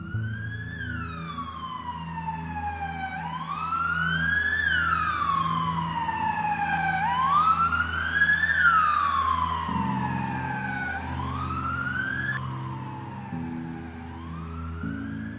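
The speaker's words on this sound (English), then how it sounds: "15 minutes later an ambulance arrives." A loud ambulance siren wails, sweeping repeatedly up and down over a low engine rumble, staying close throughout.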